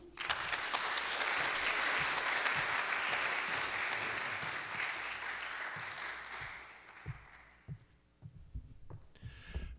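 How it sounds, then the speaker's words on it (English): Audience applause at a college event welcoming a speaker, a sustained burst of crowd clapping that fades out after about seven seconds, followed by a few scattered thumps and handling noises. "Ladies and gentlemen, let's give a round of applause to our distinguished speaker"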